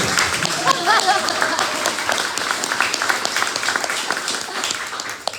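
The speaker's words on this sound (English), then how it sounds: "All right, you can clap now." A crowd at a political campaign speech applauds steadily throughout, dense clapping with some scattered cheers and voices mixed in, tapering slightly at the end.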